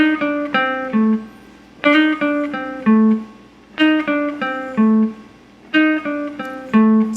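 Guitar lesson phrase from a jazz tune, a short line of plucked single notes repeated in four clear groups, each starting with an accent and then stepping down, clean and close with no talking.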